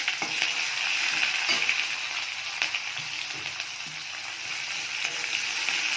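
Onion frying in hot oil in a kadai, a close, continuous crackling sizzle with occasional stirring clicks and scrapes, no voices.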